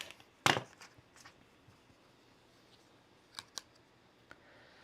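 Scissors trimming quilt fabric pieces give one sharp snip near the start, then a few lighter clicks and cuts spaced out against a quiet room.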